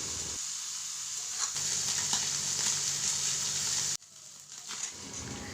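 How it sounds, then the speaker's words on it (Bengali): Small mourola fish fry in hot oil in a wok, giving a steady, close sizzle and crackle that drops briefly near the end, with no voices. "দেখুন মাছ ভাজা প্রায় হয়ে গেছে"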